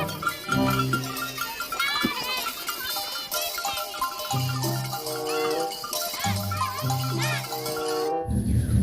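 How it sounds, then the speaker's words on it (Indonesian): Goat bleating heard amid a busy musical background with chimes and tonal layers, a cartoon-style animal cleaning game setting; the bleats sit inside dense, continuous sound rather than standing alone. "ternyata ini kambing."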